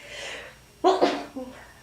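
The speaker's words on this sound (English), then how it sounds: "Excuse me just a minute, I gotta sneeze." A single sharp sneeze, close and sudden, preceded by a quick intake of breath and followed by a faint exhale.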